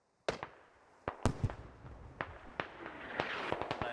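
Scattered gunshots in a tactical military shooter, a series of sharp cracks that start abruptly after a short silence and then come at irregular intervals, echoing and growing denser toward the end, with no talking.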